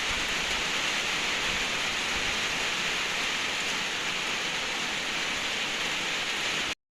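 Water rushes along a collapsed path near rice fields, a steady, even hiss of flowing water that holds unchanged and then cuts off abruptly at the end.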